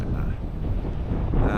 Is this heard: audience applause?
no